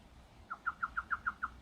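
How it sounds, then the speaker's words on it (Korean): A Korean bush warbler on Geoje Island gives a quick series of seven clear, evenly spaced whistled notes, faint against a quiet outdoor background. "이런 식으로 휘파람새예요."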